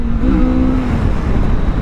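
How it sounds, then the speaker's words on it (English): A 2023 Kawasaki Vulcan S 650 Cafe motorcycle engine runs loud and close with a steady rising drone, its pitch climbing as the throttle opens under heavy wind rush. "it's got that high revving motor, so as your skills advance, you could twist that throttle a little bit more"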